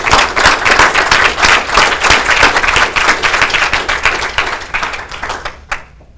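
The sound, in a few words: audience applause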